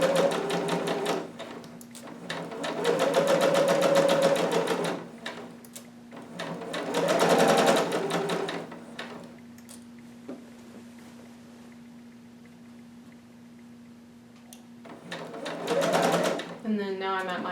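Sewing machine stitching fabric along a 5/8 seam in bursts of rapid close whirring, with a quieter stretch between them, while someone talks over it.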